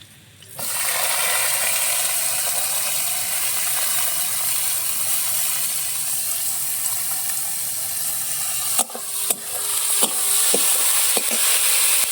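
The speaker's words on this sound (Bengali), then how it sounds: "এবার আস্তে আস্তে আমরা সব সবজিগুলো দিয়ে দেবো।" Vegetables added to a pan of hot oil with cumin and ginger break into a loud, steady sizzle, then metallic stirring scrapes and clanks join near the end, close by with no speech.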